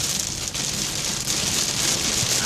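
Heavy rain pours onto a moving car during a tornado watch in Fort Lauderdale, Florida, a dense, unbroken roar of drops drumming close on the roof and windshield.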